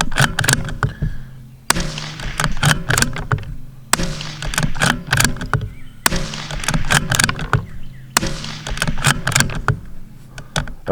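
Five loud rifle shots fired at a range for a baseline group, evenly spaced about two seconds apart, each a sharp crack with a ringing decay, heard alone with no talk.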